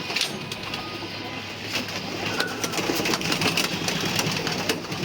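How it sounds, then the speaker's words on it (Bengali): Racing pigeons in a pigeon room give low coos against a steady, noisy background hum, with intermittent rustling and flapping-like bursts throughout. "লিজন ভাই কবুতর রুমে ঢুকলো"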